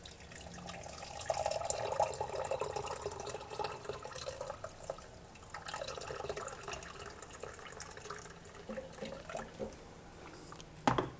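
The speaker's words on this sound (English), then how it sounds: "let's pour the hot water in" Hot water is poured into a cup over a green tea bag, making a soft, continuous trickle and gurgle with a faint clink at the end. There is no talk.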